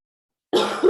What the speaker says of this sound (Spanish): Perdón, chicos, que toso bastante es porque me dio COVID hace 2 semanas y sigo con tos.